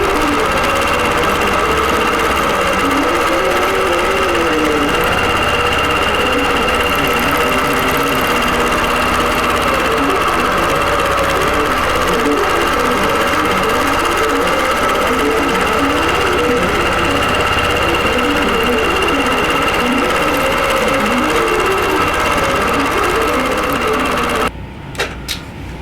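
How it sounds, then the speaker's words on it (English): A longarm quilting sewing machine stitches out a dense spiderweb pantograph, a loud, steady, close mechanical hum with a fast rhythmic needle chatter that runs continuously and then cuts off abruptly at the end. "I'm just going to let it sew out, and I'll bring it in a little closer so you can see the stitching pattern"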